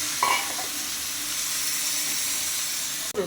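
Spices hit hot oil in a pan while a jiol fish curry cooks. A loud, broad sizzle starts at once and hisses steadily, then cuts briefly at the end.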